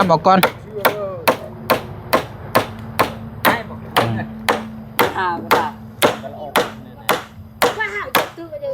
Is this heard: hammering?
yes